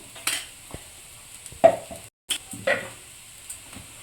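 Ginger, garlic and green chili paste sizzles softly in a pan, with a few scrapes and stirring clatters of a spoon against the metal and brief quiet gaps between strokes.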